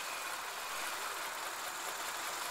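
An engine idles with one cylinder killed during a cylinder balance test, giving a steady, even hum with no talk over it for the whole short stretch.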